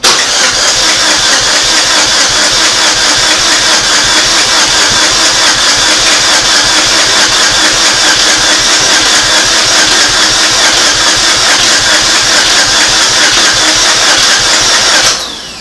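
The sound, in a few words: 2006 Saturn Ion engine cranking with fuel injectors unhooked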